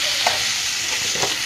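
Cumin and coriander powder sizzle loudly in hot oil while being stirred for khichuri, a steady close frying hiss with soft scraping strokes of the spoon.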